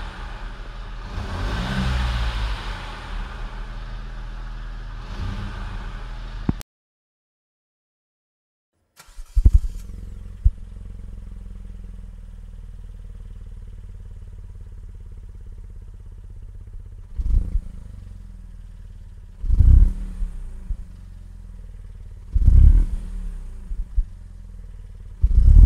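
A 2018 Fiat Panda's small 900cc engine idles steadily with a low rumble, a brief silence, then the engine catches and is blipped, revving up in several short bursts.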